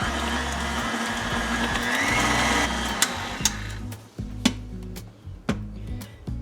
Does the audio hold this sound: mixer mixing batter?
yes